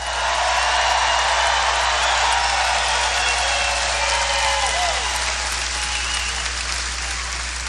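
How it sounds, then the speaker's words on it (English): Loud, sustained applause from a large crowd at a Melbourne, Florida political rally, a dense roar of clapping and cheering that holds steady throughout, with a faint whistle-like sweep in the middle. "Let's give a big round of applause for our first responders."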